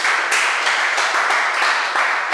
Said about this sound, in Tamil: ஒரு கைத்தட்டு தட்டுங்க.